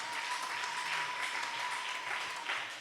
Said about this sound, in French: Acclame d'abord très fortement pour le roi des